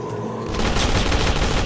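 Dense burst of video-game gunfire in Zombies in City, rapid overlapping shots swelling after a brief lead-in and continuing loud and unbroken like a fusillade.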